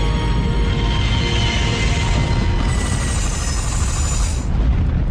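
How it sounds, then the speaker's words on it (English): Concorde airliner on fire crashing into the ground, a dense continuous roaring rumble of explosion and flames, loud and sustained throughout with no talk. "The plane stalls and plunges to the ground."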